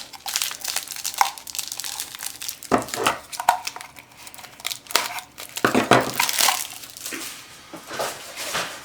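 Plastic packaging around a Dollar Tree fall plaid ribbon is crinkled, crushed and torn open. Loud, continuous rustling and crackling sits close to the mic, with sharper tearing bursts throughout.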